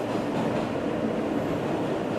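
Steady rumbling roar of a New York City F subway train in motion, heard from inside the car as a continuous, even low drone with faint rattling and no voices.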